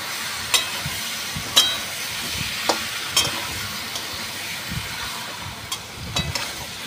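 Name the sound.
chicken meat being stirred and sautéed in a pan with salt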